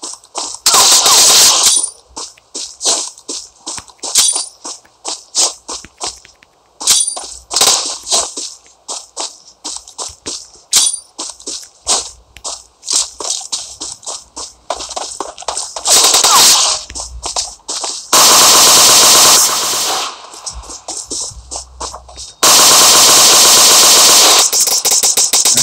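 Gunfire in the mobile battle royale game PUBG Mobile: loud, rapid automatic bursts repeat in quick clusters, broken by short gaps, then long sustained roaring volleys near the end.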